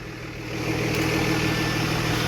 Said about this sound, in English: Listen to that exhaust tone.